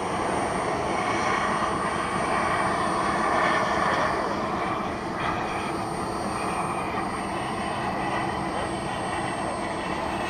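A 1/7th, 3/4 scale Skymaster F-4 Phantom model turbine jet flies overhead, its steady loud roar and whine filling the air without a break.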